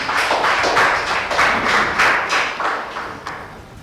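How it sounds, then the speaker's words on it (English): A round of applause for a primary school team at a school quiz competition: a few seconds of steady clapping from a room of people, close and fairly loud, fading slightly toward the end. "A round of applause for Nakasero Primary School."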